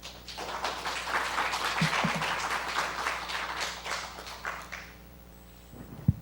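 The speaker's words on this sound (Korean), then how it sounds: "한 번 더 박수로 맞이해 주시기 바랍니다" An audience at a Buddhist studies seminar applauds to welcome a speaker, a dense round of clapping that holds steady, then thins out and fades to near silence before a single sharp knock.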